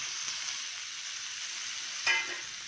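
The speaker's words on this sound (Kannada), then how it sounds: "ಲಾಸ್ಟಲ್ಲಿ ಗಸಗಸೆ ಸ್ವಲ್ಪ ಫ್ರೈ ಆದರೆ ಸಾಕು" Poppy seeds and grated coconut frying in a pan on the stove for a green peas pulao side dish, a steady soft sizzle with one brief louder scrape or stir near the end, no voices.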